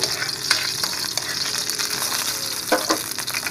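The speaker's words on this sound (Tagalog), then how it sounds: "Haluin. Sibuyas." Onions fry in a pan while being stirred, a steady close sizzle broken by scraping strokes of the spoon, with no voices.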